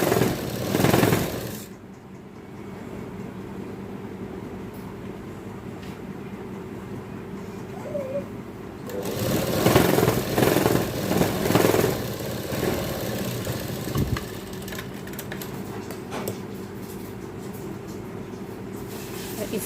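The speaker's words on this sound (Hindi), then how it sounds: "यहाँ पर हमें सिलाई लगा लेंगे" A sewing machine stitches a strap seam on a baby frock, its mechanical hum running steadily through, with louder bursts of fast stitching near the start and again in the middle.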